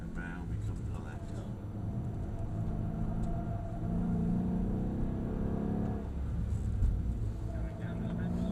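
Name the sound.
Mercedes-Benz E63 AMG driving around track in sport mode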